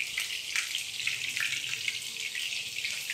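Kebabs fry in a pan over a medium flame, giving a steady, fairly close hiss with faint crackles and no voices.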